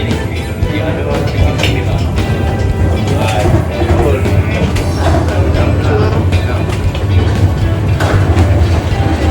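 A mine tour train at a coal museum rolls along with a constant rumble and rattling wheels, occasional clanks and squeals, and people talking over the noise.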